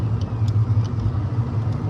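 A city bus rumbles past in the street with a steady low engine drone, fairly close and continuous, no voices over it.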